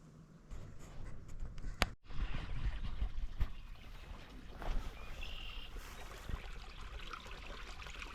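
Water from uphill trickles through culverts under an old farm lane, a faint, continuous outdoor flow with a few scattered knocks and rustles nearby.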